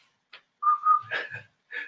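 A person whistles a short tune, a few clear sustained notes and quick pitched phrases in separate bursts, close and alone with no other sound.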